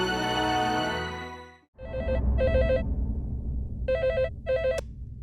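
A telephone rings in a doctor's setting with repeated electronic trill bursts, two pairs of rings separated by a pause, over a low background hum after a sustained tone fades out.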